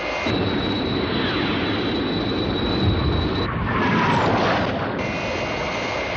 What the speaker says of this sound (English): Releasing thick red smoke from the rear of her jet, Destiny flew past the airliner again.